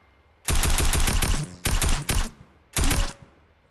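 Three rapid bursts from a tactical assault rifle hit a wooden wall in Fortnite, sharp and loud, each a quick cluster of shots, the first longest, separated by short silences.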